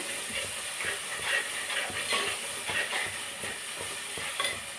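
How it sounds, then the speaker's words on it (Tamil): Ginger and garlic sautéing in a pan for chicken chukka, a steady close sizzle and hiss with repeated scraping stirs of a utensil, no voices. "இப்போ இதை நான் நல்லா வதக்கிடுவேன்."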